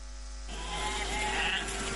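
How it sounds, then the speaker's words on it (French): A Djalonké sheep, a Guinean-origin breed raised in Togo, bleats with a short, close, tonal call at the start, followed by a buzzy, drawn-out sound over a low background hum. "Djalonké, une race de mouton introduite au Togo pour répondre aux besoins en produits carnés."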